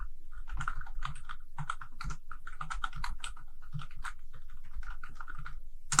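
Fast typing on a computer keyboard while working in a Hangul word processor, a dense run of close key clicks in quick irregular bursts, with no one speaking.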